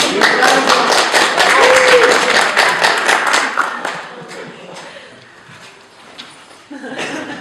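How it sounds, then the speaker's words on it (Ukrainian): An audience at a Ukrainian poetry reading breaks into loud applause, a thick burst of many clapping hands that gradually thins and fades away, then voices start talking near the end. "Так, привітаємо оплеск."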